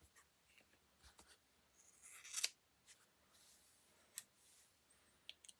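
Scissors snipping through hair close up, a few crisp metallic cuts including a louder cluster of snips and scattered quieter clicks, faint and sparse against a quiet background, no talking.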